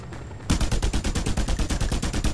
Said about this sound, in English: This is why I have an assault rifle.